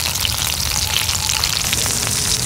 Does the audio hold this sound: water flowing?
no